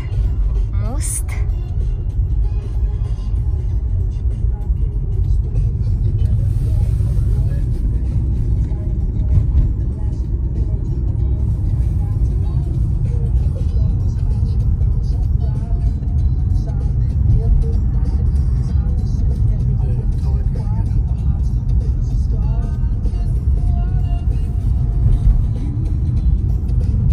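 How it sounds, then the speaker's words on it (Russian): A car driving across Phillip Island onto a bridge, heard from inside as a steady, loud low road rumble and engine drone running throughout, with people talking now and then over it. "Так, мы едем по Филипп Айленд. Вот на этот мост."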